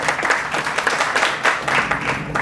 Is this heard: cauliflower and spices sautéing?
no